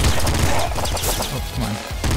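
Rapid SMG gunfire in the top-down shooter Nuclear Throne, a loud, continuous burst of quick chiptune-style shots with in-game hit and enemy sounds layered on top.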